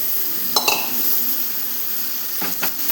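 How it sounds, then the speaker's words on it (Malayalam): Cleaned prawns go into a hot pan and get stirred, giving a couple of short metallic clinks and scrapes of a utensil against the pan over a low background hiss. "ഇനി ഇത് ക്ലീൻ ചെയ്ത് വെച്ചേക്കുന്ന ചെമ്മീൻ അതിലോട്ട് ഇട്ട് കൊടുക്കുകയാണ്"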